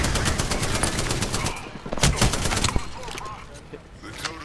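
Rapid automatic gunfire in the Apex Legends battle royale shooter, loud bursts of shots with sharp cracks and impacts, thinning out toward the end.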